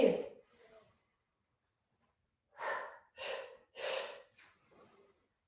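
A person breathes in and out in sharp, forceful gasps during a kicking exercise, with a long silent pause between the first breaths and a run of four loud inhales close by.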